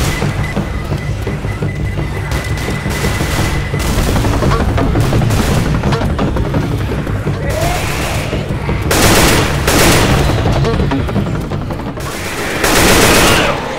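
Chaotic Left 4 Dead 2 firefight on the Vienna Calling map: dense bursts of rapid gunfire and a grenade blast crowd together loudly and continuously, with the din swelling in waves near the end.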